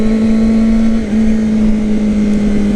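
Steady, loud engine drone from a Honda CBR600RR sport motorcycle, holding one even pitch throughout with a brief dip just after the first second, no voices.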